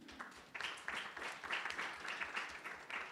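Audience applause for a chief executive at a music funding panel event in a Coventry venue, a steady wash of clapping with bursts rising and falling across the moment, fairly faint and distant.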